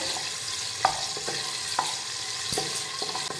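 Finely chopped medium tomato sautéing in a pan for spicy potato rice, a steady soft sizzle with a few sharp scrapes of a spoon stirring through it, close and alone.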